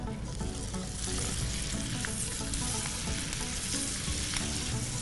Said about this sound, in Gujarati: કેપ્સિકમ સંતળાઈ ગયા